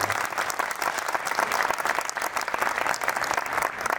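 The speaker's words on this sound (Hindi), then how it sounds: "एक बार आसमान तक की तालियां होनी चाहिए।" Audience at a kavi sammelan (poetry gathering) applauding poet Dr. Vishnu Saxena, a loud, continuous wash of clapping from a large crowd with no break.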